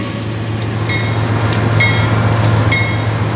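A Union Pacific train rumbles steadily past on the Kearney Subdivision of the Overland Route, a continuous low droning roar with occasional faint metallic squeals from the wheels.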